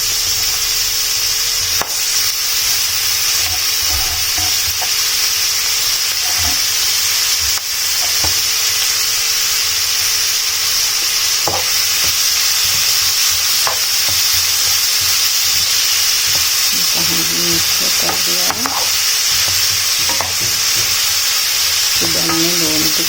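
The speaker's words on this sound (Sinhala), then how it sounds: "පොඩ්ඩක් මෙතන බැදෙන්න දෙන්න." Food fries in a hot pan with a loud, constant sizzle, broken by occasional scraping clicks as it is stirred.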